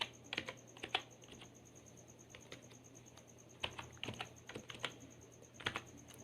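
Keys tapped on a computer keyboard while entering data into MS Excel, short irregular bursts of clicks with pauses between them, quiet and close.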